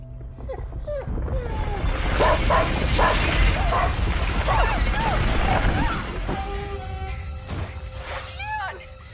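Injured dog whimpering in A Plague Tale: Innocence, high yelps and whines rising over a loud, busy game scene with rumbling and crashing, while a voice speaks over it.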